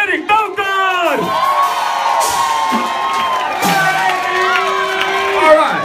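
A party audience at a café anniversary celebration cheers, whoops and shouts loudly for the full stretch, a dense close crowd roar with individual voices rising out of it.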